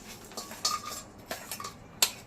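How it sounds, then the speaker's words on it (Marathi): A spoon stirs cardamom and dry ginger powder together in a metal bowl, giving several light scraping clinks in uneven bursts and one sharper tap near the end, close and quiet with no talk. "वेलची पावडर आणि ही सुंठ पावडर दोन चमचे ते मिक्स करून घेऊया"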